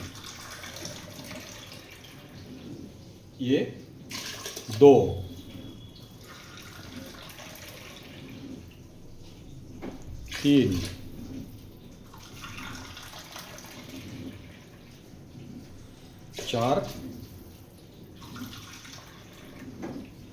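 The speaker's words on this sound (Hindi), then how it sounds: "1 कप पानी हमने डाल दिया है।" Water pours and gushes into a NutriCook pot in several short bursts, with a low running-water hiss in between, close, while someone speaks briefly.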